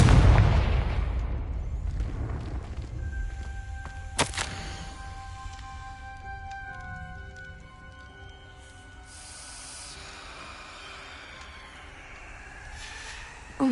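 A Confringo explosive spell in Hogwarts Legacy goes off as a rumbling boom that fades, then a sharp crack, with tonal magical shimmer and game ambience ringing on afterward.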